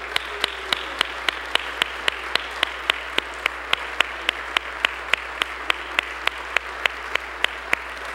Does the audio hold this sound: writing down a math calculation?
no